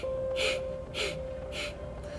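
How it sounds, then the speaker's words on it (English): Fire breath in a beginner yoga session comes as three sharp forceful breath bursts, evenly spaced and close, over a steady tonal hum in the background. "I like to do fire breath, so that's what I'm doing now"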